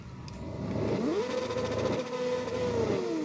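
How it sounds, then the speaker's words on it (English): Motorcycle engines rev loudly at a race start in TT Isle of Man 2, with a field of Triumph Daytonas, Yamahas and Hondas, pitch climbing and holding in sustained, overlapping roars. "That's way too much revving."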